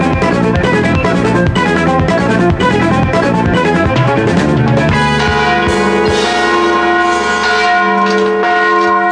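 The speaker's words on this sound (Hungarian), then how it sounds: "Ahol torony van, ott harangok is szólnak." Church bells ring in a loud, continuous, layered peal with overlapping tones that sustain and blend together.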